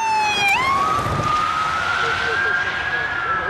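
A loud wailing ambulance siren sweeps up and holds a rising tone, close by, over steady traffic rumble.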